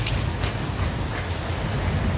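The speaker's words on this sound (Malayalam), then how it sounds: "പുറത്ത് നല്ല മഴ" Heavy rain pours down outdoors in Abu Dhabi as a dense, continuous hiss and patter. It stays steady and fairly close throughout, with no voices.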